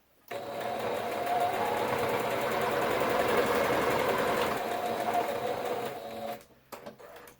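A domestic sewing machine stitches a long seam through a bubble quilt in one continuous, close, steady whirring run of about six seconds. It stops abruptly, followed by a few small handling knocks.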